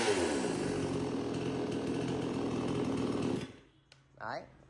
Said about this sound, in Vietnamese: rồi em nổ cho nghe này. Con này thì máy cưa to.